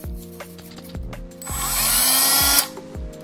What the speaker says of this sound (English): So I've got the Dremel here.